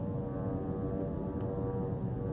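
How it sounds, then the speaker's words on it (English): Drones flying overhead during wartime, a low steady droning hum with sustained tonal layers, distant and continuous with no talking. "Those are the drones."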